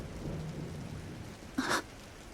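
Rain and thunder in the video game Trails FC Remake, a soft steady rain hiss with one brief crackling thunder burst near the end, fairly faint and alone.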